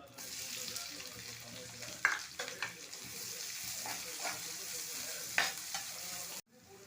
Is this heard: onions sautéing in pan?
yes